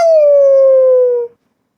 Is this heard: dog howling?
yes